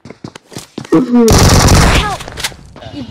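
Rapid automatic gunfire in the mobile battle royale game BGMI, a loud sustained burst in the middle mixed with excited players talking over voice chat before and after.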